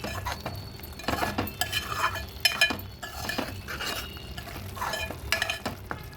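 Boiled elephant foot yam pieces are stirred into tomato gravy in a pot, with a spoon scraping and clinking in irregular strokes over a soft simmering sizzle, close and moderately loud, no one speaking.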